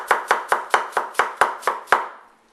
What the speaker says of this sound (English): you can chop the carrot